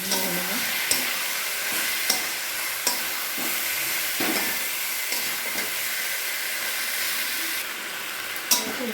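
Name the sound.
chicken frying and stirred in spiced oil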